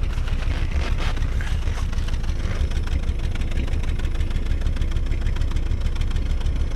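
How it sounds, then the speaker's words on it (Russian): A car engine idles steadily in extreme Yakutian frost, a continuous low rumble with a rough, churning texture that holds unchanged throughout, close and fairly loud with no voices. "А вот что происходит, если машина постоит на морозе, заведенная."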